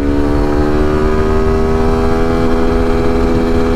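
A 2024 Suzuki V-Strom SX250 motorcycle revs hard as it accelerates through the gears, giving a loud, steady engine drone with rising harmonic tones that carries on without a break and has no voices over it.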